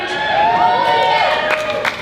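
A comedy-show audience at Charleston Music Hall cheers, whoops and claps steadily, close and loud, with a few sharper shouts near the end.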